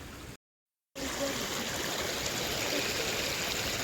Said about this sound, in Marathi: डायरेक्ट धबधबा आहे हे बघा लय भारी